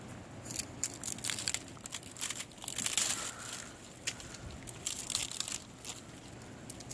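Crunchy frozen snow underfoot during a snow storm in Georgia gives a series of close, crisp crunching footsteps in an uneven walking rhythm, fairly quiet, with no talking.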